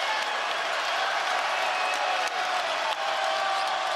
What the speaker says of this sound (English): Crowd on its feet now.